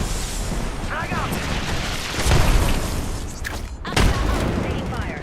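A frag grenade goes off in a sci-fi shooter video game, with two loud booming blasts amid steady gunfire and game voices talking over the mix.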